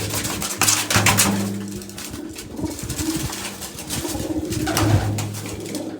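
Pigeons cooing in a loft, several soft rolling coos close by with some wing and shuffling noise and light knocks in the background, no voices.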